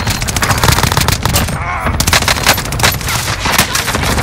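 Dense, loud automatic gunfire from Call of Duty: Warzone on Rebirth Island, rapid bursts crackling continuously with overlapping game effects and distant shots throughout.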